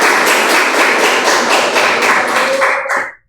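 Students in an Indonesian classroom clap their hands together in a loud, steady burst of rhythmic claps, closely packed and continuous for about three seconds before stopping abruptly.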